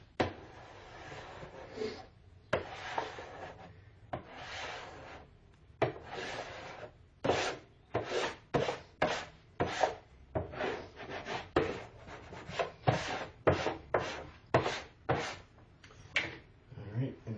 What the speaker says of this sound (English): I usually like to squeegee down the seams first, get those good before I start going this way.